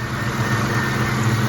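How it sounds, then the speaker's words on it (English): A 1996 Ford Mustang GT engine idles steadily after a cold start at close range, a continuous low rumble with an even mechanical hum and no voices. "So I'm going to do a cold start on the car here in just a moment."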